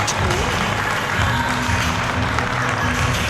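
A wrestling arena crowd at Slamboree applauds as it rises to its feet, a broad steady roar of clapping and cheering heard from a distance, unbroken throughout.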